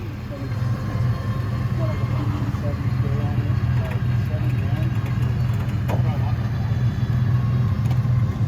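A stuck Chevy truck sinking in soft ground idles with a steady, loud, low engine rumble throughout, with voices talking nearby.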